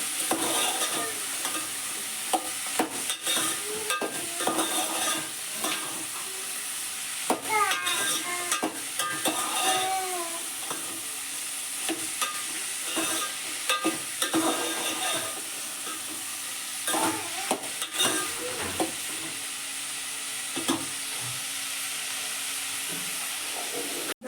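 Onion greens fry in oil in a pan, giving a continuous sizzling hiss broken by frequent scraping and knocking of a spoon stirring, with no talking.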